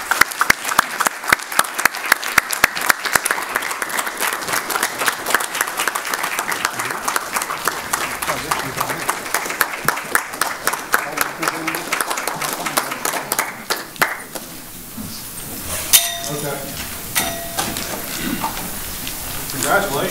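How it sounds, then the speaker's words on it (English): Applause from an audience and city council at a council meeting, many hands clapping steadily and loudly before thinning out into scattered claps toward the end. "ask for this audience and this City Council to recognize her with a huge round of applause"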